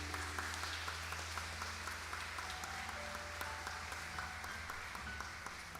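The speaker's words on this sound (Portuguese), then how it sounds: "você pode aplaudir o Senhor" A church congregation applauds in a faint, steady wash of clapping that continues evenly throughout, with low background hum underneath.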